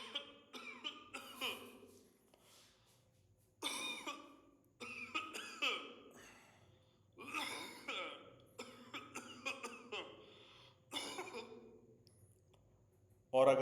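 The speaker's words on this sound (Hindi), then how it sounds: "तो इस तरह से आपको उसकी रिकॉर्डिंग करनी है खांसी की।" Coughs recorded for TB screening play back from a device in several clusters of rough bursts separated by short silences, fairly quiet, ending on one louder cough.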